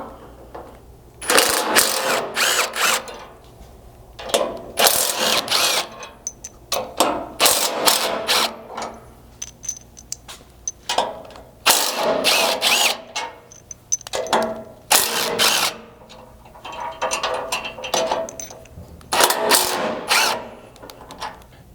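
Bumper mounting bolts on a Bronco are loosened during a winch plate install, with repeated short bursts of ratcheting clicks that come in a rough rhythm, separated by quiet gaps.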